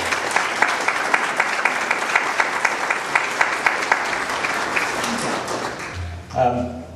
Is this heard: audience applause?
yes